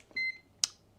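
A multimeter in continuity beep mode gives a single short, clear electronic beep, followed a moment later by a brief click on a quiet workbench.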